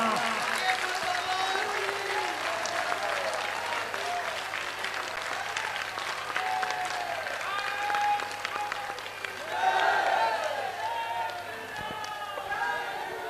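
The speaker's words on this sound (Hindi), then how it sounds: "चाहिए तालियां।" A large crowd applauds steadily throughout a Hindu religious discourse during a Sanatan Hindu unity march, the clapping dense and sustained with a brief swell near the end.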